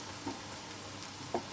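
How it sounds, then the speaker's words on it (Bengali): Onions fry in a pan for chicken curry, a quiet steady sizzle with two brief spoon knocks against the pan. "পেঁয়াজগুলো একটু ভাজা হোক"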